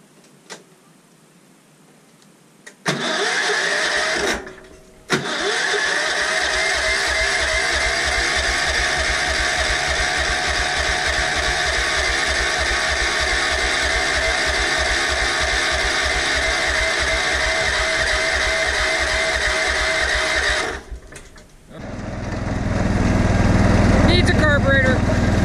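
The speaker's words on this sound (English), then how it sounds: "Put the jump starter on and see what happens." An old engine cranked with a jump starter: after a brief start, a loud steady engine drone runs for about fifteen seconds, then cuts out abruptly, followed by a different rumbling noise.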